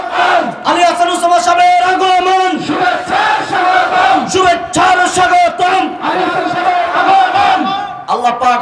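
A large outdoor crowd at an Islamic preaching gathering roars a takbir chant in unison, loud and close. The massed voices swell in repeated surges with short dips between them.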